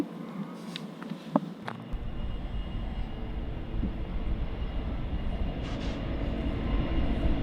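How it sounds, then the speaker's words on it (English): A steady, low rumble of a train rolls past at a distance, building slightly in loudness over several seconds with faint clanks at the start. "Oh look, there's a train coming."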